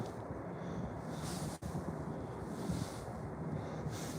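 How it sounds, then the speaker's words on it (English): Steady cold outdoor wind roaring across the microphone in a continuous broad rush, with one brief dip in the middle and no other sounds. "Wonder which way the wind's blowing."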